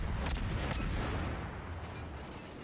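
Warship guns fire in the naval video game World of Warships, a muffled, rumbling boom with a couple of sharp reports early on, the low roar tapering off over a few seconds.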